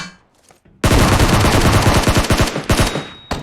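Automatic rifle fire in PUBG Mobile bursts in suddenly after a quiet lead-in, a loud, fast string of close shots rattling for over two seconds before a final short burst.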